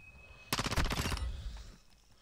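Rapid automatic gunfire in Call of Duty: Modern Warfare 2 (2022), a loud, dense burst of closely spaced shots lasting under a second, then a short decaying tail with no voices.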